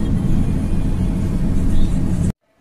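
Many motorbikes passing in front of a car on a road near Gurgaon, a dense continuous engine roar with a swell of revving near the end before cutting off abruptly.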